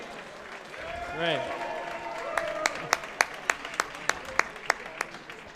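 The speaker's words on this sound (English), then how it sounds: "Another round of applause for our winner" An audience at a boxing club event claps for the bout winner, a short burst of sharp claps rising over room noise while a voice speaks briefly.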